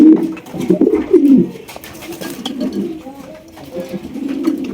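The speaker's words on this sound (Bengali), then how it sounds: "এখানে কিন্তু চমৎকার একজন শর্ট ফেস কবুতর আছে" Soft, low cooing of a short-faced pigeon repeats in throaty bursts, strongest early on, with quieter murmuring coos continuing close by.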